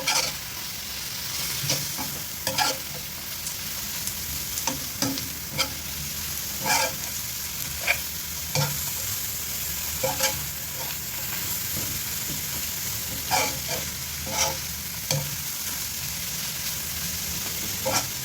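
Pancit canton with meatballs and Silver Swan sauce stir-fried in a pan, a steady loud sizzle broken by regular clanks and scrapes of the spatula, close up and without speech.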